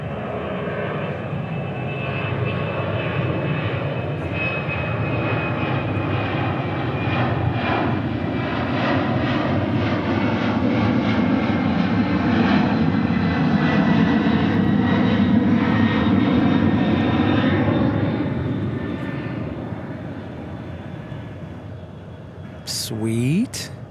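A FedEx jet aircraft at DFW airport produces a loud, close engine roar that swells and holds for about twenty seconds before fading, with people talking over it.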